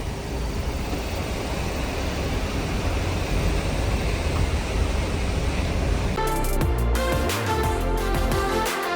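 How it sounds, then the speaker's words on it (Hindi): River water rushes steadily and loudly through Tirthan Valley, a dense broadband roar that holds for about six seconds before a rougher, churning stretch with sharper splashy detail takes over near the end. "इधर भाई पानी का जो फ्लो है ना, इतना सही फ्लो है, मैं आवाज़ सुनाता हूँ आपको।"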